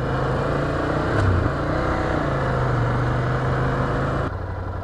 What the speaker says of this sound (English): It's a very loud exhaust.